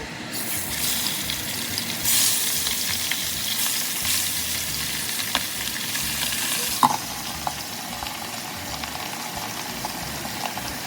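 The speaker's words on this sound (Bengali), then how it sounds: "ওই একই তেলে ভেজে নিচ্ছি হচ্ছে চিংড়ি মাছগুলো" Prawns fry in oil with a continuous loud sizzle, and a sharp clink of a utensil sounds briefly partway through.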